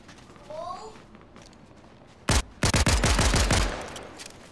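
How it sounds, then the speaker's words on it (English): Video game gunfire in a mountain firefight: a single sharp shot, then a quick run of about seven loud, close bursts in rapid succession, with brief talk just before. "I don't know why the hell I'm shooting at him with a pistol."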